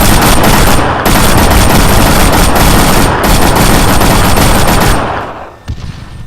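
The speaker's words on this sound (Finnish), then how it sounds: "Mistä tätä ammutaan?" Loud, sustained automatic gunfire in the military shooter ArmA 3, rapid dense bursts close by with brief gaps, then cutting off and fading near the end.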